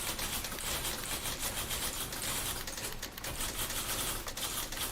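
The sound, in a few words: typewriters clacking in a video game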